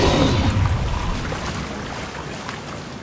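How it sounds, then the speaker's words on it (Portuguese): Steady rain falls outdoors at a park as a loud, close, continuous hiss that is strongest at the start and eases slightly, with no voices. "conseguimos sair da chuva, mas ainda tá chovendo"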